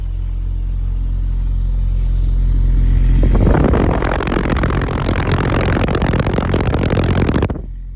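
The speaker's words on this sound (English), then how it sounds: "Let's head back to have a listen to the exhaust back here." A 1960s or 1970s collector car's single exhaust with a polished tip idles with a low steady rumble, then grows louder and rougher with a dense clattering burble before cutting off abruptly near the end.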